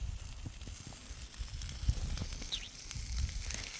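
Sausages sizzling on a grill with a pot of orzo and eggs cooking nearby, a steady close hiss and crackle with faint pops, no talking.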